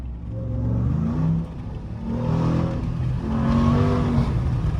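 A 2021 RAM TRX truck accelerates hard, its engine note climbing steadily in pitch through several rising sweeps, a loud, close, continuous roar heard from inside the cab.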